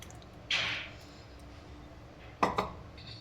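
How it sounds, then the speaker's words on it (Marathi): Ground onion and roasted gram paste goes into a pan of chicken curry with two short metallic clinks and scrapes of a spoon against the pot, fairly quiet and close, with pauses between. "आणि आता आपल्याला हे वाटण घालायचं आहे कांद्याचं आणि फुटाण्याचं."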